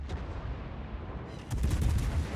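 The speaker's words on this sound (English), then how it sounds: "And I put some shots out on Rupert here." Warship guns firing shells in World of Warships, a French Henri IV cruiser's battery, heard as muffled distant booms over a steady rumbling battle ambience, with a denser burst of firing near the end.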